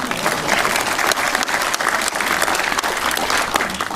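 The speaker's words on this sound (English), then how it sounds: "Round of applause for Dave, everybody." A conference audience at an awards ceremony breaks into loud, sustained applause, dense clapping from a large crowd filling the room for several seconds.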